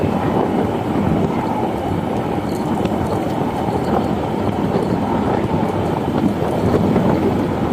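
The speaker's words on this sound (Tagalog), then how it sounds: "Yung simoy talaga ng hangin dito, napaka-sarap, no? Mahangin dito." Steady, loud rushing wind noise with a low rumble, continuous and unbroken throughout, no voices, in Barangay Cabcab, San Andres, Catanduanes, Philippines.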